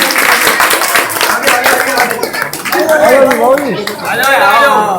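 Children at an Ambedkar Jayanti gathering in Ghaziabad clap steadily as a group, fairly loud and close, while someone talks over the applause and chatter rises toward the end.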